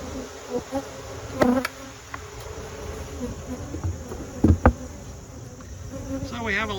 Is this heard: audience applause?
no